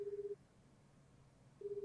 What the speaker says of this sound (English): Koji dials Yo's number and is surprised when it rings longer than it usually does